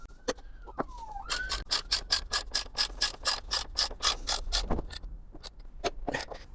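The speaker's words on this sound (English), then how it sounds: "tighten it up with the 14mm socket." Ratchet with a 14mm socket tightening a bolt on a Hayter Harrier 41 lawn mower, giving a close, rapid series of crisp clicking pulls in a steady rhythm, with a brief rising whine at the start.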